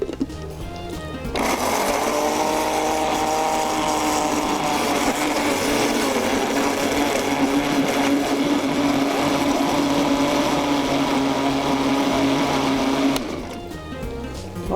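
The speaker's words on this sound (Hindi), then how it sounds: "और डालूँगी केले, और इसको मैं ब्लेंड करूँगी।" A kitchen blender whirs loudly and steadily while blending bananas, starting after a brief pause and running evenly for about twelve seconds before stopping.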